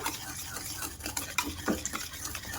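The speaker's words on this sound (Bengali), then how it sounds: "এবার ভালো করে মিশিয়ে নেব চিনি আর টক দইটা" A spoon stirs powdered sugar into sour yogurt in a bowl, giving a continuous wet, scraping churn with irregular soft clinks against the sides, close and fairly loud.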